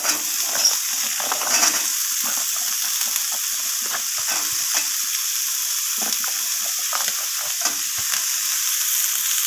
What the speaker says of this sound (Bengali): তো আলুটাকেও আমি নাড়াচাড়া করে একটু ভাজা ভাজা করে নিচ্ছি।